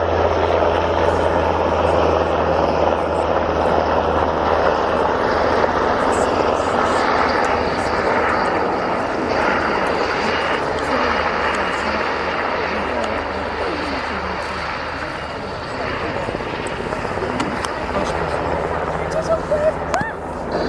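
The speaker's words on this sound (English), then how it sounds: "It's the NH Industries NH-90 TTH, the Tactical Transport Helicopter." An NH Industries NH-90 TTH tactical transport helicopter of the German Army flies a display at an air show, its rotor and engine roaring loudly and continuously, under a commentator's amplified voice.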